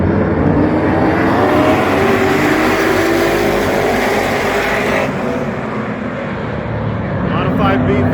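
Modified race cars roaring around an asphalt oval track, a dense continuous engine drone that stays loud throughout, with a voice faintly audible underneath.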